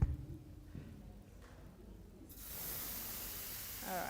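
Oil sprayed lightly into a hot pan for vegetarian cooking starts to sizzle, a soft hissing that swells into a steady bright crackle after a quiet start.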